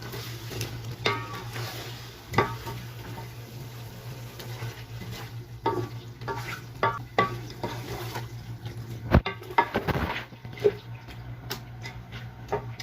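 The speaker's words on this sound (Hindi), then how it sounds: "अब इसको अच्छे तरीके से मैं फ्राई करूँगी।" Yogurt, tomato, garlic and ginger masala fries in a pan for spicy Pakistani chicken pulao, a steady low sizzle with scattered scraping stir strokes and clinks of a spoon against the pot, no talking.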